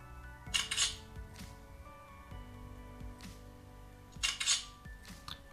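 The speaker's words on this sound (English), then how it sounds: "Let me try to take a picture here." A phone camera app on a UMI Touch Android smartphone gives two short mechanical-sounding shutter clicks several seconds apart, quiet and close against faint background music.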